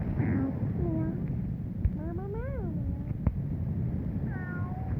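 A cat meows several times, short rising-falling cries spread across the clip over a steady low background rumble, fairly close.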